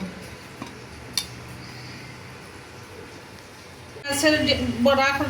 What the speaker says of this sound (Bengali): তরকারিটা ডাকিয়া দিব।